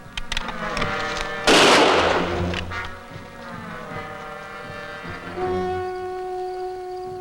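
A single loud, close gunshot cracks out in a frontier-era television drama, a sharp broadband blast that decays quickly, set among sustained musical score tones that continue before and after it.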